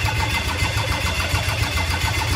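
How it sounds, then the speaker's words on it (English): A Ford Ranger engine with new injectors fitted cranks over with a steady, rhythmic mechanical chugging that stays close and even throughout, with no voices. "engine cranking with injectors in it."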